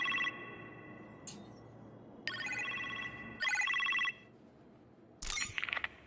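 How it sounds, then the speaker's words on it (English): A telephone rings in a kitchen in the Iron Man VR video game, with three or four separate bursts of electronic ringing over a low room hum, fairly close and with no talk. "You appear to have a phone call in the kitchen"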